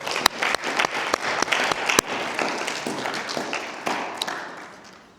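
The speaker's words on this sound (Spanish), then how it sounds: "Vamos a dar un aplauso al Señor para comenzar esto." A church congregation claps, with a few sharp, louder claps standing out near the front over dense applause. The applause fades toward the end.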